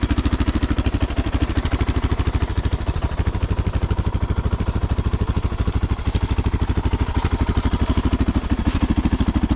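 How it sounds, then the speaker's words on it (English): A Suzuki DR650 motorcycle fitted with an aftermarket exhaust idles close by, its single-cylinder thump a fast, even, loud pulse that holds steady throughout. "Let's turn it on. I'll let you listen to it. All right, so there you go at idle."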